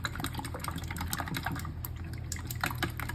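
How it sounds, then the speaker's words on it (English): Eggs are beaten with chopsticks in a bowl, giving rapid, continuous light clicking and tapping with a wet, sloshing edge, close by and fairly quiet. "Going to scramble the eggs. Always break the yolks first."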